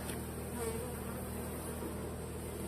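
A mass of honey bees buzzes at a beehive, a steady, close, continuous drone with no talking.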